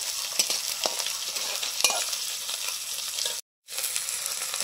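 Nigella seeds and dried red chillies fry in hot oil in a pan, giving a constant bright sizzle with a few stirring scrapes and a short gap near the end.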